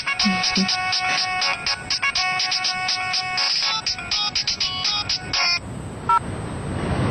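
An incoming call sets off a phone's melodic electronic ringtone, playing loud and close in a steady repeating pattern for about five seconds before cutting off, followed by a brief faint clatter.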